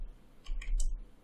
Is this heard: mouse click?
yes